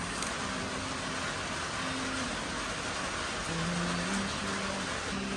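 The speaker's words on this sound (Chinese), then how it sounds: "今天突然下雨了" Steady rain falls at a roadside camp in Xinjiang, a dense even hiss of drops on surfaces with no pause throughout.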